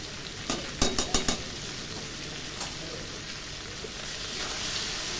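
Vegetables frying in a pan for a vegetarian dish, a soft continuous sizzle opening with a quick burst of four or five metallic clinks from stirring, then steady frying with occasional faint scrapes.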